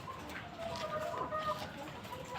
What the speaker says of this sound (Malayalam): ഇത് നമ്മുടെ തനി നാടൻ കോഴികൾ അടയിരുന്ന് മുട്ട വിരിയിക്കുന്ന കോഴികളാണ്.